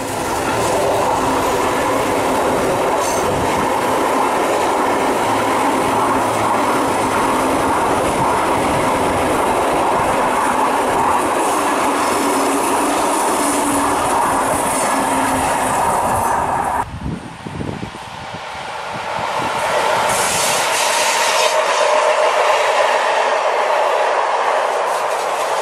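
A Bergen Railway train climbing toward the Hardangervidda plateau in Norway runs steadily on its tracks, a loud continuous rumble with rhythmic wheel clatter that shifts abruptly partway through, as if entering a different section, with no talking.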